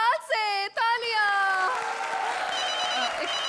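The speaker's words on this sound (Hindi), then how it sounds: "तालियां।" A television comedy-show studio audience breaks into loud, sustained applause and cheering. Bright sustained tonal notes open it, then a dense wash of clapping fills the rest.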